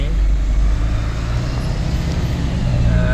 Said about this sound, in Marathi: ट्रॅफिक जाम ट्रॅफिक आहे बघा आणि बरोबर आता ना वाशीच्या ब्रिजवर आहे